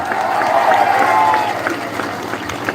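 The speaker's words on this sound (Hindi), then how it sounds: "एक ताली मार दीजिए" Audience clapping and cheering at a live stage event swells loudly in the first second and a half, then thins into scattered claps and crowd noise.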